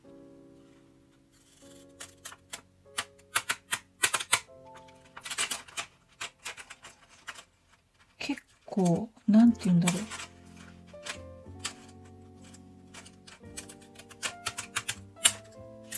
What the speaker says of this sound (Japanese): まずギザギザタイプで切ってみます。